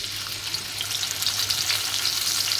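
Fish frying in a modest amount of oil in a pan, giving a steady, close, bright sizzle that holds without a break, with no voices.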